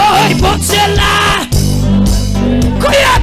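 Church congregation shouting and yelling loudly together in worship, overlapping voices with musical accompaniment underneath, continuous and close.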